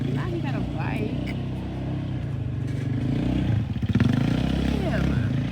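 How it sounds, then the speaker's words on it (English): A motorbike rides outside in the snow, its engine a steady low drone with a brief rise in revs midway, heard at moderate distance under an indoor voice talking. "Now somebody got a bike."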